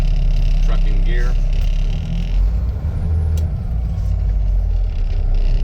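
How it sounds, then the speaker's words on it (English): Truck stopping during a service brake check, with a low engine rumble, a brief hiss of air brakes and soft squeaks as the vehicle halts, heard close from inside the cab. "the truck stopped, so the service brake is working correctly"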